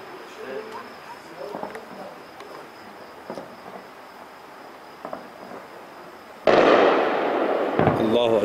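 Artillery shelling of the city of Taybat al-Imam in Hama, heard as scattered faint distant thuds over a quiet background, then a sudden loud, sustained roar near the end as people speak.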